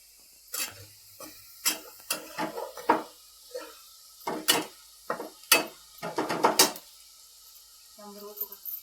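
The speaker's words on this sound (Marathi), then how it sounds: "सगळं तेलात भाजायचं." Onion and sambar masala roasting in oil: scattered stirring scrapes, clinks and soft sizzling bursts, close but faint, with quiet stretches in between.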